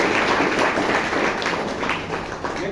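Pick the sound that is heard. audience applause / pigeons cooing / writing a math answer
audience applause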